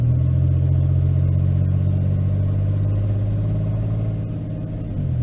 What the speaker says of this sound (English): If anybody's curious what a Astro with the exhaust missing sounds like, it's pretty much just cats only.